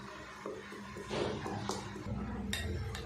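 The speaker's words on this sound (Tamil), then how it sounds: "சேர்த்துட்டு இப்போ இது நல்லா கலந்து விட்டுருவோம்" Milk and egg batter for bread being stirred in a bowl, soft clinks and scrapes of a spoon against the dish, quiet and close with little else around.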